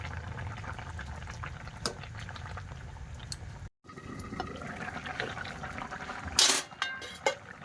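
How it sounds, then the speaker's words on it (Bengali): A vegetable curry bubbles at a low, steady simmer in a pot on a home stove, with faint clinks of utensils and a brief sharp clatter near the end. "তরকারিটা ফুটছে"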